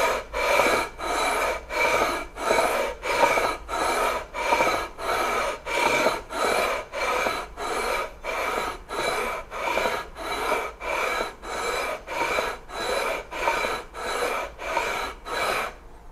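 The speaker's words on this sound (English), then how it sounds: "I'm going to guide this back and forth." Rhythmic rasping strokes of a sanding beam sliding back and forth over the metal frets of a Stingray-style guitar, about one pass per second, steady and close, with no talking.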